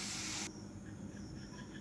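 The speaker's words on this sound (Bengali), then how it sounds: "আবারও আমি বাকিগুলো ভেজে নিচ্ছি।" Fish frying in hot oil opens with a brief loud hiss that quickly settles into a quieter, steady sizzle.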